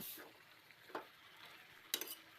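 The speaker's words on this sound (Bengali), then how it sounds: "শাকটা দেওয়ার পরে সবজির সাথে আরও একবার ভালো করে মিশিয়ে নিচ্ছি" Spinach being stirred with vegetables in a pan, a quiet scraping stir with a few brief clattering strokes against the pan over a soft background hiss.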